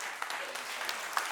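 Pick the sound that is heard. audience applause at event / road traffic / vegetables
audience applause at event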